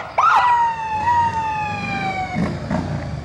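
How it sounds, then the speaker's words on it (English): Police cruiser siren blaring at the head of a Memorial Day parade in Scotch Plains, a loud close wail that sweeps sharply up, holds a long steady tone, then drops away, with a second rise near the end. "Nothing says patriotism like a blazing siren."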